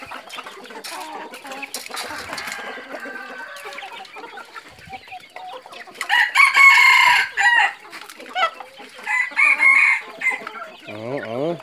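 Fighting cocks and roosters on a Thai farm cluck and crow, with loud drawn-out crows rising over scattered quieter clucks and rustling, some calls close and strong.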